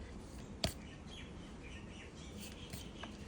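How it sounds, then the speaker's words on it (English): Soft bird chirps and song drift in from a distance over a gentle Hawaiian breeze, faint and scattered across a quiet outdoor background. "listen to the bird songs"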